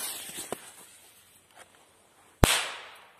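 A sharp, loud bang from a Europyro Hot Shot EP-AS016 firecracker near the end, with a short ringing tail, preceded by a few faint scuffs and taps.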